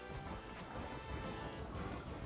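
Rain pours steadily with low rolling thunder in a stormy scene from the video game Cookie Run: OvenBreak, a continuous dense wash of sound with no voices.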